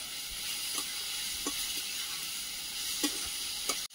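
Prawns frying in a pan with okra and tomato give a steady bright sizzle, with a few soft clinks of a spatula stirring and a brief knock at the end, moderately quiet with no voices.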